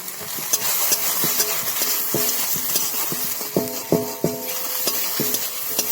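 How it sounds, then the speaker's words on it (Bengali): Fish curry spices with turmeric and chili powder being sautéed and stirred in a pan, a steady close sizzle with repeated knocking scrapes of a spatula against the pan, no talking. "আর একটু কষিয়ে নিই।"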